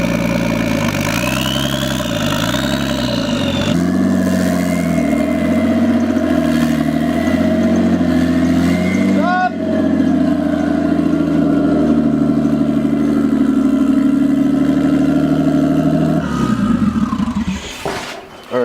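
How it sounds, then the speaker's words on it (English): A Nissan S14 with an RB20 engine runs loud and close, idling then revving up and settling, with rising and falling engine pitch before cutting back near the end. "it seems to be running much better than the last motor"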